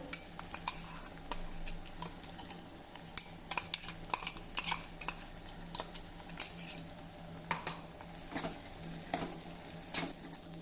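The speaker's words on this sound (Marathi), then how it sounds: "आता चार पाच मिनिटासाठी हे वाटण जरा परतून घेऊ" Ground sesame paste with turmeric and coriander sizzles quietly in a pan while a spoon stirs, giving a soft steady fry with scattered scraping ticks and taps.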